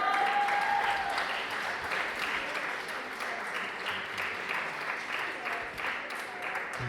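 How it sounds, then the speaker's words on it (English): A crowd applauds at a youth participation event, a continuous soft wash of many hands clapping at a distance, steady and fairly faint throughout. "a big round of applause for Mike"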